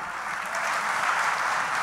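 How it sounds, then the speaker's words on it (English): A conference audience claps steadily in sustained, dense applause after a keynote speech, with no voices rising above it. "Let's hear a huge round of applause for sir."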